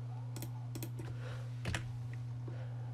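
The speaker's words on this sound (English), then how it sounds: "just hit Control F and type in command" Keys clatter on a computer keyboard as Control F and a word are typed: a few quick, clustered clicks, faint over a steady electrical hum.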